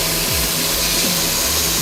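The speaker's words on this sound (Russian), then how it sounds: "сверление у нас происходит вот таким вот образом" A small Proxxon modeller's power drill runs steadily at a constant whine, its motor pitch briefly dipping and recovering a few times as it bites, with no voices.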